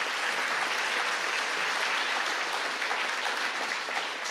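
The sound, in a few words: audience applause at a debate forum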